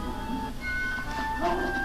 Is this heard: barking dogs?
yes